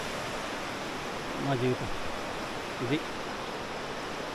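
Water flows with a steady broadband rush at the Sisiri picnic spot in Arunachal, constant and moderately loud, with someone briefly speaking over it twice.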